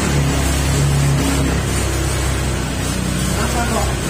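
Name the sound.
fuel-injected motorcycle engine started in mode 4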